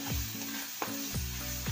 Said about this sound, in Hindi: हम अपने मसाले को अच्छे से भून लेंगे।